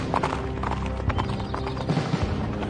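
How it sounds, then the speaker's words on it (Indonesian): Horses galloping in an Indonesian radio drama, hooves clip-clopping in a steady rapid rhythm, close and fairly loud over a dense effects bed, with a brief whinny-like accent. "Di lain pihak, Agung Sedayu dan Suandaru terus memacu kuda mereka menyusul Sutawijaya yang telah melesat lebih dahulu."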